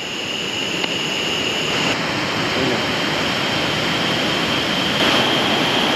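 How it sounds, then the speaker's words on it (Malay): A fast-flowing river runs below a jungle hiking trail on Gunung Rajah near Kuala Kubu Bharu, giving a steady, dense rushing wash that holds evenly from start to finish with no voices over it. "Ada sungai bawah."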